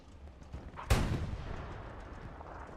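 Gunfire in the WWII shooter Hell Let Loose: a single sharp, heavy shot cracks out and then fades. Faint distant battle noise sits around it.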